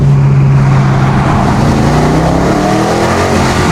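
A British twin-turbo V8 car engine revs loud and close, its deep roar holding steady and then climbing slightly, with no voices over it.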